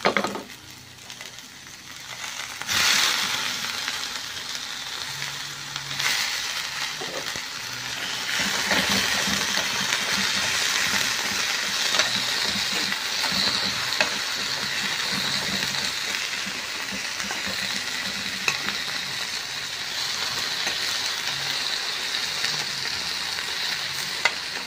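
Onion and tomato are sautéed in a pan for ginisang pechay, giving a continuous close sizzle and crackle, with stirring scrapes and clatters at intervals and no one speaking.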